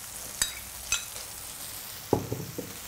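Chorizo and brèdes (leafy greens) frying in a pan: a low sizzling hiss punctuated by a few sharp clicks and scraping stirs, close and fairly quiet.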